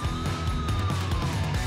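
A wailing ambulance siren sounds in the driving game Motor Town, a steady sweeping tone over a rumbling engine and pulsing low rhythm, loud and close.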